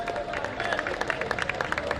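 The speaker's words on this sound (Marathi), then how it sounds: "खरंच टाळ्या झाल्या पाहिजे त्या खेळाडूसाठी" Spectators at a local cricket tournament match applaud a veteran player, a dense spread of rapid clapping from a crowd with voices mixed in underneath.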